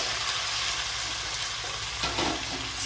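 Papaya pieces frying in hot oil give off a steady, dense sizzle that runs through the whole stretch, with a brief louder crackle of oil near the end.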